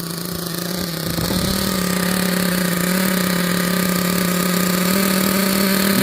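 A Team Associated MGT nitro RC monster truck engine runs continuously, steady and loud, then lifts slightly in pitch as it is given a small rev and holds there.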